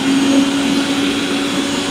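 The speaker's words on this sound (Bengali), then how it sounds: "এই যে এটা গ্যারান্টার মেশিন আমি এখন চালু করে দেখাই দিই" A rice grinder machine runs with a steady, loud motor whine and a constant hum throughout, no speech over it.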